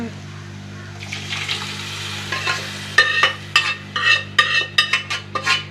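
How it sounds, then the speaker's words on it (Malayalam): Beef cooks in a pan with added water, a low bubbling simmer under repeated rhythmic stirring scrapes of a spoon against the pan, close and growing more frequent toward the end. "നമ്മുടെ ബീഫും വെള്ളം കൂടി ഒഴിച്ചു കൊടുത്തിട്ട്"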